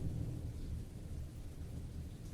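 A thunderstorm with heavy rain roars steadily, deep low rumbling under a dense wash of rainfall throughout.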